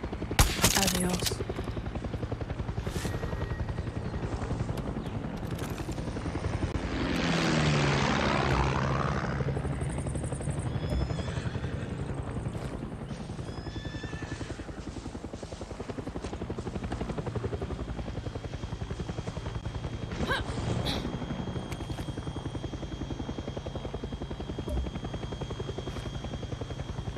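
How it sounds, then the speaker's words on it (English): A helicopter in the video game Far Cry 6 thumps with a continuous rotor drone that swells as it passes close, joined by scattered gunshots and game effects, with a player talking at times. "Yo, we gotta try to get this helicopter"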